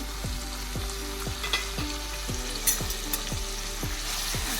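Finely chopped onions fry in a pan for pav bhaji, a close, steady sizzle broken by regular stirring scrapes about twice a second.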